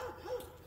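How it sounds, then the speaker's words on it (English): A guard dog lets out a short yappy bark or yip, fairly close and moderately loud, with no voices over it. "this dog especially is a guard dog. So all they do is bark."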